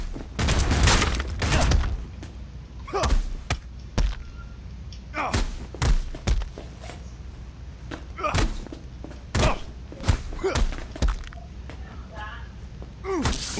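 Gunfire in the Cyberpunk 2077 video game: repeated sharp bursts and thuds spread across the scene, some heavy and close, with voices shouting under the shots.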